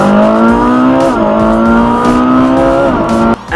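A Ferrari 458 Speciale engine revs loud and close in a sustained, rising howl, with a brief dip in pitch around a gear change before climbing again and cutting off abruptly near the end.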